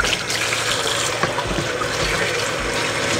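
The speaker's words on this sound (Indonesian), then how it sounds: "ini sekarang kita akan cuci dulu ya" Running tap water pouring in a home kitchen while a live jumbo lobster of about 3.5 kg is rinsed, a steady close splashing rush without talk.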